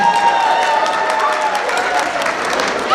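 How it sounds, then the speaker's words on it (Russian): Guests at a Turkmen wedding applauding together, steady loud clapping with some cheering mixed in, continuous throughout the short stretch. "Аплодисменты."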